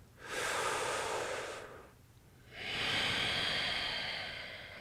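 Two deep, slow breaths during a yoga plank, a long airy inhale or exhale followed by a brief pause and another long breath, close and clear, with no talk.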